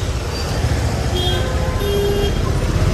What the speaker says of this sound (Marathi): चला ट्रॅफिक लागेल, ट्रॅफिक